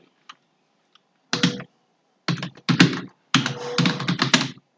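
Computer keyboard typed in close, crisp bursts of rapid clicking, three clusters of keystrokes after a couple of isolated taps, with no voice.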